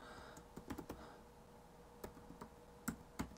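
Keystrokes on a computer keyboard in a Windows PowerShell window, a quiet run of scattered clicks with a few sharper taps near the end, close and alone.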